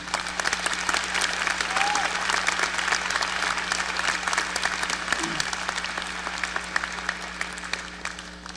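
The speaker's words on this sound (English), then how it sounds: "we do owe her a special round of applause as she retires this year" A commencement crowd at a university gives steady, sustained applause at moderate volume, a continuous patter of many hands clapping with a low hum underneath.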